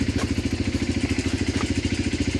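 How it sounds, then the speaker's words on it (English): Two 110cc Chinese-made quad four-wheelers idle together up close, a loud, even, rapidly pulsing engine chug with a slight mechanical clatter and no talking. "I've got our four-wheelers over here. They're both idling, getting them warmed up for later."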